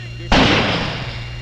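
A single loud, close gunshot cracks in a quick-draw duel, a sharp blast that rings out and decays over about a second above a low steady hum.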